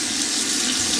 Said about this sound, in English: I'm going to wet it with some warm water.